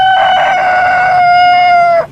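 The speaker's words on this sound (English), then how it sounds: "Hen," A hen gives one loud, drawn-out call lasting about two seconds, close and alone.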